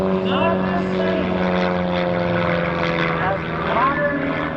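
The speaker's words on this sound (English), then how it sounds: "Look at him roll the airplane over." A propeller airplane drones loudly and steadily while rolling during a comedy aerobatic act at the New Garden Airshow, its engine tone shifting slightly, with a commentator talking over it.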